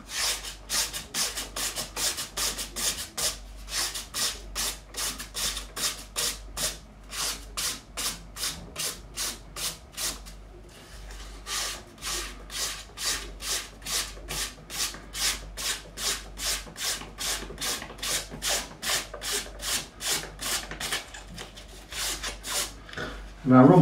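Steady run of metal file strokes dressing the fret ends on a Telecaster neck, each pass a short raspy scrape in rhythmic groups of about eight, close and clear with brief pauses between sets.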